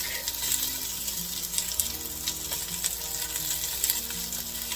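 Onions frying in a pan for pollo guisado give a steady, close crackling sizzle with occasional stirring clicks, continuous throughout and free of any voices.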